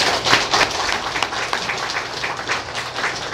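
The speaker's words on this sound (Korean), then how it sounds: "우리 이재일 집사님 박수 한번 주십시오." A church congregation at a deacon ordination and installation service applauds a deacon, dense sustained clapping from many hands filling the room at close range without a break.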